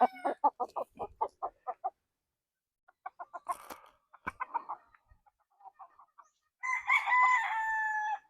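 An eight-month-old Gary Gilliams Roundhead stag rooster gives a run of quick clucks, more scattered clucking, then a loud drawn-out crow at the end, close by with no talk.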